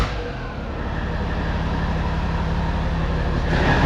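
A repaired cattle-hauling truck's engine runs at a steady idle, a loud continuous rumble with low harmonic throb, close by and alone without talk.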